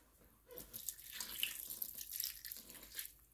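Tap water runs into a pot at a kitchen sink, a close splashing gush that starts after a brief pause, flows steadily, and eases off near the end.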